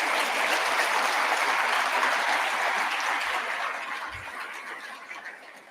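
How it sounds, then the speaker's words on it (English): Audience applause at a national seminar opening ceremony, steady broad clapping from a large crowd that fades slightly toward the end, no talking. "So how about we give each other a round of applause for each and every one of you"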